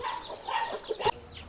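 Hens and chicks offered for sale, a few short clucks and calls close by and fairly clear, with no talk.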